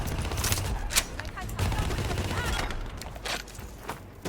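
Rapid bursts of gunfire in the first-person shooter Call of Duty Black Ops 3, with repeated sharp shots and cracks close by over a dense battle background, and a voice briefly talking.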